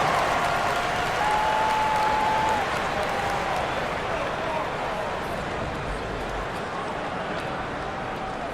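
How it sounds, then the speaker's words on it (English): Sustained crowd applause and cheering filling a large basketball arena, a dense continuous roar of clapping that stays loud for the whole stretch. "Let's give them a big round of applause."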